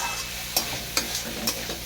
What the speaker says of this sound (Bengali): ওই ভাজা ভাজা আর একটু খানিক্ষণ ভাজলেই আমার বগলিটা রেডি